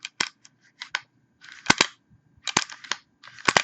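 Beretta 92FS pistol slide being pulled back and worked, a series of sharp metallic clacks and clicks in uneven bursts, close and moderately loud with no talking.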